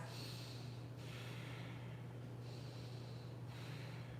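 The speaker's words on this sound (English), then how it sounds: "take 3 long deep full breaths" Slow, deep breathing during a yoga pose, with long airy inhales and exhales repeating in a steady rhythm, close and quiet over a low hum.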